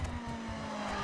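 A BMW M4 engine in The Crew video game holds a steady, droning rev, a continuous moderately loud hum with no talk over it.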